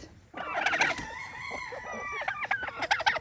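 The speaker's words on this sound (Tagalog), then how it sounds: "itong ating mga alagang manok dito, ito ay cross na ng native na manok at Rhode Island Red" Chickens, a native breed crossed with Rhode Island Red, crow and cluck close by on a small farm, a drawn-out crow followed by choppy clucking calls.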